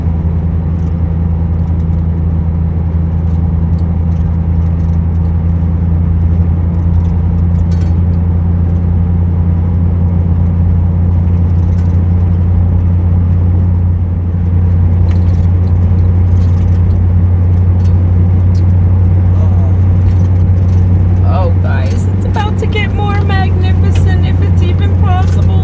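A car cruising along a road near an Indian reservation, giving a steady loud engine drone and road rumble throughout, with a voice talking over it and some faint high clatter near the end.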